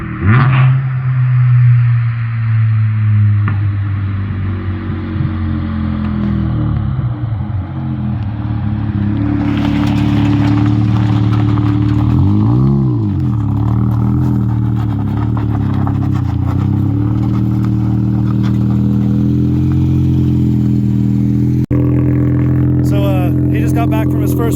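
A naturally aspirated Mazda RX-7 with a 13B rotary engine revs hard and loud up close, its buzzing exhaust note climbing and falling through several sweeps before settling into a rough, steady idle.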